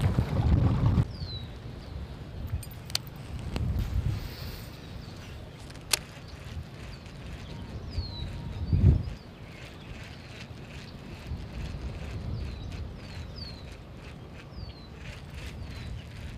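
Wind buffets the microphone on a kayak moving fast during bass fishing, with low rumbling gusts and occasional thumps, plus faint bird chirps in the background.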